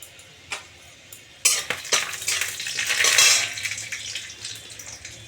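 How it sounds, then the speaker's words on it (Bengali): Chopped onions sizzle in hot oil with garam masala, browning toward reddish as a utensil scrapes and clatters against the pan. Quiet at first, the frying swells loud and steady after about a second and a half. "পেঁয়াজটা পেঁয়াজ কুচি, লাল লাল হয়ে গেল"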